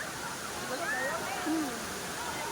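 Tinago Falls gives a steady, broad rushing roar of falling water close by, with people talking faintly over it.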